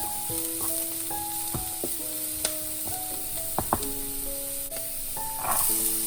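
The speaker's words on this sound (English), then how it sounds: "Portobellos, a minute saute." Portobello mushrooms sauté in a pan for fried rice, giving a soft steady sizzle with occasional light stirring taps, close and quiet beneath a background of faint musical tones, with no talking.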